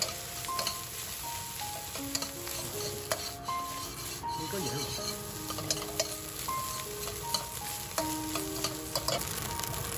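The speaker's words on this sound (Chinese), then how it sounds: "加2勺酱油，继续翻炒。" Rice being stir-fried with soy sauce in a pan, spatula scraping and stirring continuously with a steady low sizzle over about ten seconds, close up, with faint background music tones and no speech.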